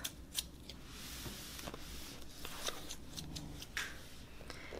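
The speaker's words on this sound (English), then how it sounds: "So I have my scissors." Quiet snips and sharp clicks of scissors cutting through a new laptop box's packaging, a few irregular cuts with rustling in between, close and faint.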